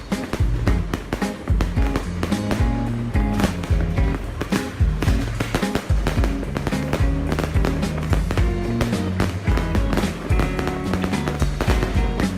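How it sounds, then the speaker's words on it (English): Fireworks at a Guy Fawkes Night event pop and crackle in dense rapid bursts over a continuous loud backdrop, with music or crowd noise mixed in throughout. "First of all, the fireworks, well done."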